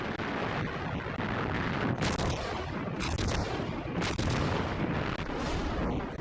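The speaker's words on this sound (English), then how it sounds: "Rommel's artillery took a terrible toll." Axis artillery at El Alamein in the Second World War fires in heavy, repeated booms that come roughly once a second over a dense, rumbling battlefield roar, loud and continuous with no voices.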